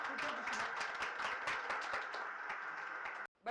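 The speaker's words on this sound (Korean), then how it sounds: "우리 한번 박수 하겠습니다." Church congregation applauding after a sermon, a continuous wash of many hands clapping at moderate distance, fairly quiet overall, ending abruptly in a brief silence before another sound starts.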